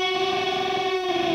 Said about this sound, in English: Gets all out of tune and shrieky sounding.